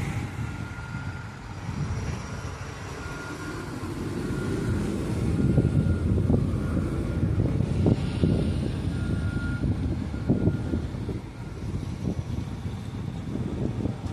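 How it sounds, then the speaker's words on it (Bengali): Steady low mechanical rumble and drone of a large piling machine working at a construction site in Romania, continuous and moderately loud with faint higher machine tones above it and no talk. "দেখো কত বড় পাইলিং মেশিন।"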